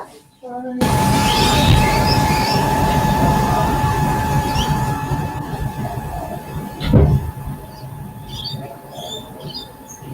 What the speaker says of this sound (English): That train is noisy.